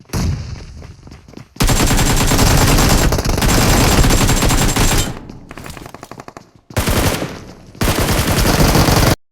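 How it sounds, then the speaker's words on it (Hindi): Heavy automatic gunfire from a battle royale shooter game, loud sustained bursts of rapid shots broken by brief pauses, near and dense, with no talking. "जैसे मुझे इधर फायर की आवाज़ आती है"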